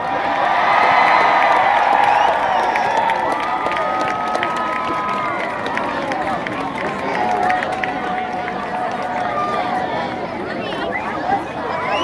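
A crowd at a 2018 high school homecoming cheers and chatters loudly for the homecoming king and queen, a dense sustained roar with shouts, easing slightly toward the end.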